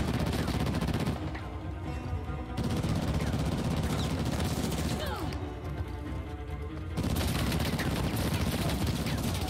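Dense gunfire from an Indian history video game: continuous, loud rapid shots and bursts fill the whole stretch, with brief dips, while a player's voice is faintly mixed in.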